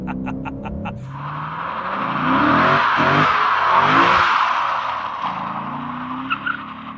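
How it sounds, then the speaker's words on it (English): A 2024 Lexus IS 500 with its V8 doing a burnout, the engine revving up into a loud sustained tire squeal that rises and holds for several seconds, close by with no talk. "Yeah, she can do burnouts now."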